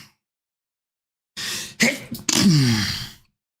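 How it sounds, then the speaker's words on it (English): A single close, loud sneeze bursts out after silence, with a sharp intake, a quick catch and a drawn-out forceful release that trails off. "I had to sneeze."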